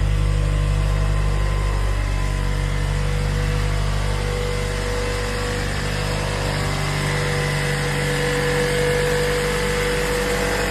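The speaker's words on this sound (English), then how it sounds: "Sounds like it's idling a little bit high there." A car engine idles at a fast, steady rev, a loud continuous hum with constant tones and no one speaking.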